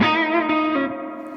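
An electric guitar with distortion plays a short phrase from a song intro. The phrase has a few quick, loud, ringing notes and then fades into a sustained tail, with no voices.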